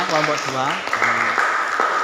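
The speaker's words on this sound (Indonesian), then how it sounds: "Berikan tepuk tangan dulu buat kelompok Ria" Classroom applause for a student group, a continuous broadband patter of clapping running beneath a teacher's speaking voice.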